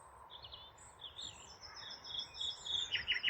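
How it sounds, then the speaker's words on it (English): Nightingales sing in the early morning at RSPB Rainham Marshes: faint, distant, high chirping phrases that repeat and gradually grow busier and slightly louder over a quiet outdoor hush. "It's absolutely crazy over here with nightingales."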